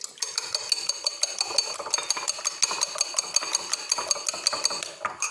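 Two eggs are beaten in a bowl with a fork or whisk, giving a fast, steady run of light clinking taps against the bowl, close and continuous for about five seconds, with no talking.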